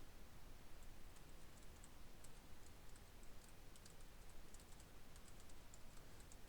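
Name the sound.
typing on a computer keyboard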